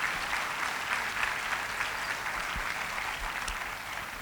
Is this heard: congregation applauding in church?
yes